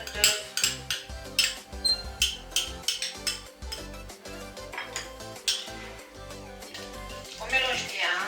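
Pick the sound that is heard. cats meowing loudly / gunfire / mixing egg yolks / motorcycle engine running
mixing egg yolks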